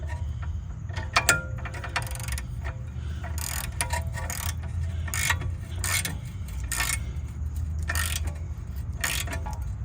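A wrench ratcheting behind a stuck brake rotor, giving bursts of quick mechanical clicks that come and go in irregular runs over a low background hum.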